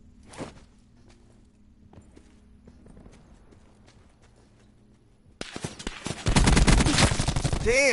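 Gunfire from an enemy's weapon in a Call of Duty-style battle royale game: a few quiet taps early, then a loud, dense burst of rapid shots erupting in the final seconds.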